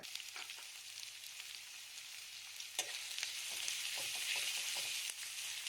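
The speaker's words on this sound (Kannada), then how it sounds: "ಎಣ್ಣೆ ಬಿಸಿಯಾದ ನಂತರ ಹೆಚ್ಚಿಟ್ಟುಕೊಂಡ ಈರುಳ್ಳಿಯನ್ನು ಸೇರಿಸಿಕೊಂಡು ಈರುಳ್ಳಿ ಕಂದು ಬಣ್ಣ ಬರೋವರೆಗೂ ಹುರಿದುಕೊಳ್ಬೇಕಾಗತ್ತೆ" Chopped onions frying in hot oil in a pan for a dhaba-style egg masala: a soft, fairly quiet sizzle with occasional stirring clicks and scrapes, steady throughout with no talking.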